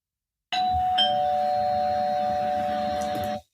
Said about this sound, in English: this ding dong means that we are beginning an exercise